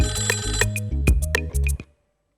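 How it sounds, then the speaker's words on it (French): A telephone ringtone plays alone, a loud electronic tune of quick repeated beeps and tones that ends abruptly into silence. "tu voulais tester cette sonnerie-là?"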